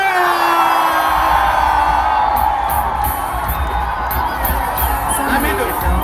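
A large crowd at a live music show cheers, whoops and shouts continuously, loud and close, with a sustained roar that carries the whole time.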